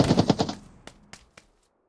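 Gunfire in the mobile battle royale game PUBG New State: a quick burst of rapid automatic shots up close, followed by a few scattered single shots fading off, no talk.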